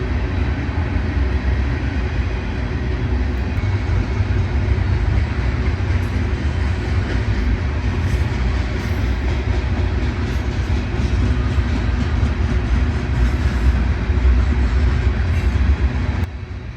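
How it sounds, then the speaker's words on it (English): A heavy 100-car grain freight train exchanged from BNSF to Union Pacific rolls past in a continuous low rumble, with a steady wheel clatter and a loud, close, unbroken drone from start to finish. "This heavy 100-car grain train was exchanged from the Burlington Northern Santa Fe to the Union Pacific"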